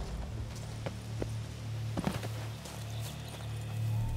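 Horse hooves clip-clop at a walk in The Witcher 3, a steady soft patter of steps set against a constant low ambient hum, with no talk over it.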